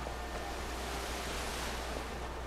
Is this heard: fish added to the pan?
no